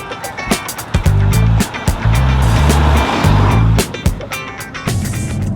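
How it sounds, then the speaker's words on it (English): A 2015 VW Golf Sportwagen TDI diesel clatters as it drives, giving a low, throbbing engine note that surges and drops in repeated bursts, with a voice talking over it at times. "is a little bit of that diesel clatter that is traditional"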